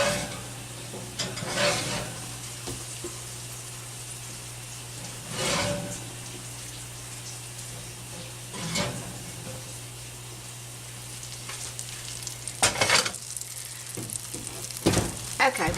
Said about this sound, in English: we've got our butter in there, and I hear a little sizzling sound